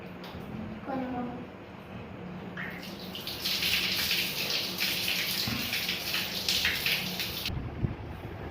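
Water runs from a tap while hands are washed, a steady splashing rush that swells louder midway, with a child and an adult talking over it.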